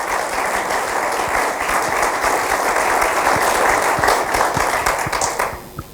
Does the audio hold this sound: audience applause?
yes